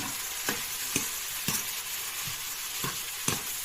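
Bean sprouts and pork belly stir-fried in a pan: a steady sizzle punctuated by several sharp scrapes of the spatula at irregular intervals, close and without talk.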